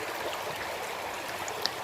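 Running water from a small waterfall feeding a stream where mudlarkers hunt for old bottles, a constant bright hiss and babble with a faint splash near the end, no voices.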